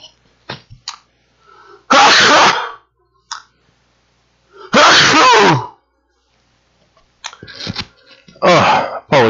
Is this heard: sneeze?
yes